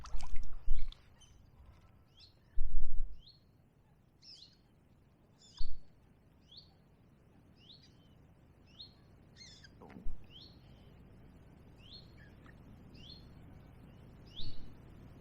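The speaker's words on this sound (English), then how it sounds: "So peaceful, just a couple of birds and nothing else." Small birds chirp repeatedly in short, high calls over a soft outdoor hush on the River Stour, with occasional low thumps and splashes of paddling on water.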